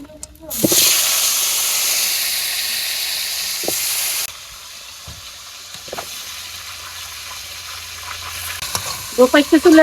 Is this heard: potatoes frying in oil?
yes